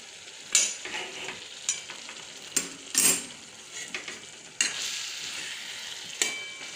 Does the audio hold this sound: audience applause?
no